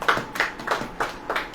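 An audience claps in a sermon gathering, five or six soft, evenly spaced claps in a steady rhythm, close and moderately loud.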